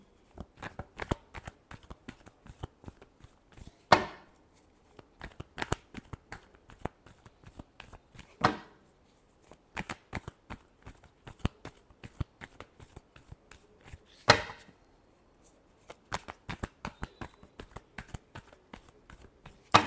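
Tarot cards are shuffled by hand at close range, giving quick, crisp riffling bursts and sharp card slaps in an uneven rhythm, with no one talking.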